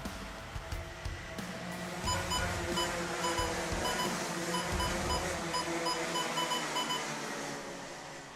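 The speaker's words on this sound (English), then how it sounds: "You can hear a lot of beeping in the background." Timing loop beeps sounding as karts cross the start line at a kart racing final, repeated short electronic tones over a steady roar of engines and track noise.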